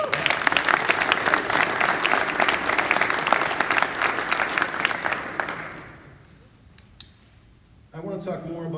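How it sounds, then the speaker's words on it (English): Festival crowd gives a loud round of applause with dense clapping for about six seconds before tapering into quiet, then a voice begins speaking near the end. "he deserves another round of applause"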